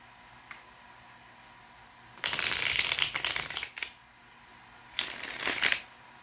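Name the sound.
tarot cards being shuffled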